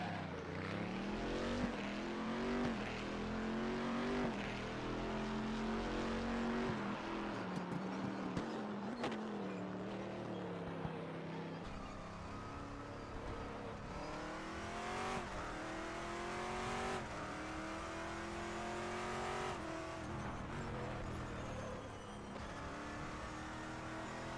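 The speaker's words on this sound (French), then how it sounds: "je vous ai fait écouter le bruit de la voiture" A Saleen S7R GT race car engine in the RaceRoom Racing Experience video game roars continuously, revving up and down through gear changes with occasional tire squeal, loud and close throughout.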